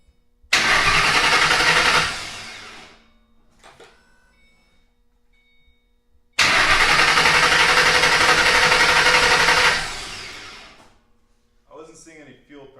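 A 2007 Mustang GT engine, freshly installed, cranks over slowly in two long bursts of whirring starter noise without firing, each followed by quiet and brief voices nearby.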